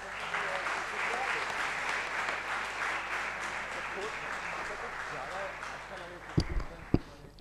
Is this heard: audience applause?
yes